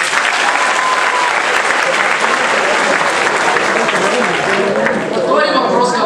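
An audience in a quiz comedy sketch applauds steadily and loudly for the full stretch, dense clapping that holds at one level and only starts to thin near the end.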